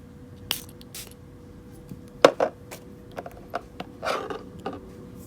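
Several short hissing spray bursts from a perfume sample vial mixed with small clicks and handling noises, close by, with no talking.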